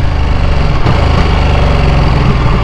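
Onboard sound of a Ducati Panigale V2 motorcycle engine, a loud, steady, dense engine drone with a brief dip partway through and no talk.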